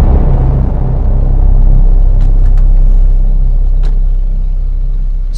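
A car drives along the docks in GTA V, its engine a steady, loud, low rumble that holds unbroken throughout, with faint higher ticks on top.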